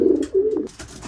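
Racing pigeons coo in a loft, a couple of low, throaty, rolling coos sounding close and clear.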